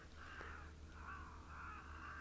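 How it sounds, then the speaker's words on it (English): Cape crows call in the wild with three or four harsh, drawn-out caws at moderate distance, repeating over a steady low background hum. "Of course, we also have the morning or the audio of our Cape Crows."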